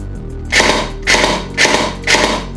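Four short bursts of rapid shots from a CYMA AKS-74U airsoft rifle in semi-auto, in a steady rhythm, each a quick clattering cluster, close up with no talking.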